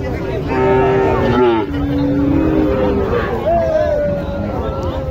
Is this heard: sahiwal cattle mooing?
yes